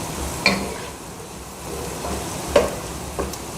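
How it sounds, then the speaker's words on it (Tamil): Chopped vegetables and tomatoes sautéing in a pan for veg pasta, a soft steady sizzle with a few faint scrapes of stirring, quiet and without talking. "அப்படியே 2 நிமிஷம் வதக்கிட்டு இருக்கலாங்க"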